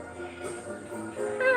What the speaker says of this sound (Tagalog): Bagong pusa namin.